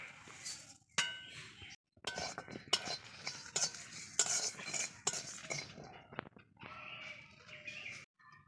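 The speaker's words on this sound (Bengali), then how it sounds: "আমি এখানে গোটা জিরা ধনা গোটা আর শুকনো লঙ্কা একসঙ্গে ভেজে নেব" Whole cumin, coriander seeds and dried red chillies roasted together in a pan for aloo paratha, heard as a string of sharp metallic clinks and scrapes of a stirring utensil over a faint crackle, close and fairly quiet.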